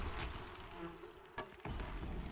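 Bees buzzing in the Pantheon fantasy game, a faint low hum under soft ambient noise, broken by a couple of brief clicks and thumps.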